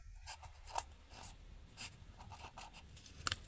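A pen writes on paper during a third-grade math lesson, with short scratchy strokes and taps coming in irregular bursts, close and fairly quiet.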